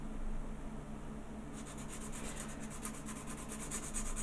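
Faint, steady rubbing of sandpaper on a plastic model kit part, becoming a quick scratchy back-and-forth rhythm partway through, close and quiet.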